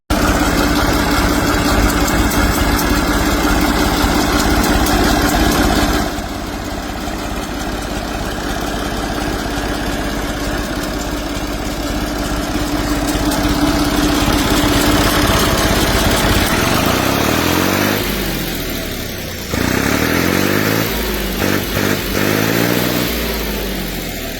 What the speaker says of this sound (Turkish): 2 çekişli 3 silindirli bir motora sahip görmüş olduğunuz bu traktör